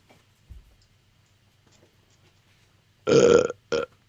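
Two burps after near silence: a loud, drawn-out belch followed quickly by a shorter one, close up.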